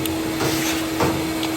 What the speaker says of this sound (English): I'm going to spend a few minutes vacuuming all the lint out, sucking all the lint out of the cabinet.